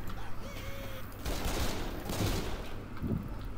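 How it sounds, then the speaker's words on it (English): Dual pistols fire in Left 4 Dead 2, a few quick bursts of shots standing out over the ongoing game noise at moderate level. "Why are these pistols loud as fuck?"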